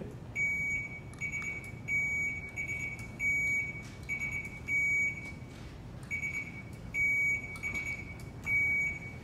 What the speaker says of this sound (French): On va essayer les buzzers pour être sûr qu'ils fonctionnent encore.